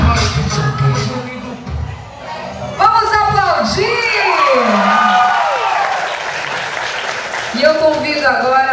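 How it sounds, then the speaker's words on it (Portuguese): Applause and cheering from guests at a 15th birthday party, a lively crowd clapping and whooping close by, mixed with loud voices and shouts over the clapping. "Vamos aplaudir!"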